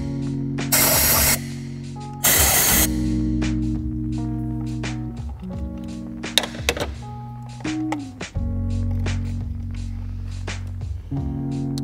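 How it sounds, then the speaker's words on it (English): Compressed air blasts into the spark plug wells of a BMW B58 3.0L engine in two loud, close hissing bursts, followed by a steady engine-like hum and scattered clicks and taps of tools. "we want to blow some compressed air down in here just to get any dirt that's in the well blown out"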